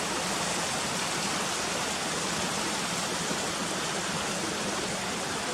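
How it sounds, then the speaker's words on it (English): The waterfall at Ashgill roars in the distance as a steady, unbroken rush of falling water, even and continuous throughout with no voices. "And there's the waterfall up there in the distance, look."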